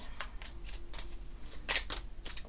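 Oracle cards shuffled and flicked by hand before a divination reading, giving a string of soft, papery riffles and taps at an uneven rhythm, close and quiet, with no talking.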